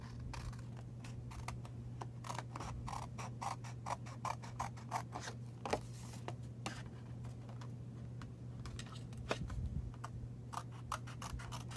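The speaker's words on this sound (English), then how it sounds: "And trim my back panel." Scissors snipping through a card back panel during papercraft, a run of quick, crisp close cuts in irregular bursts over a faint steady hum, with no talking.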